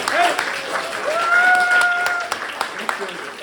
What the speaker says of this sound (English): The clap was gonna come later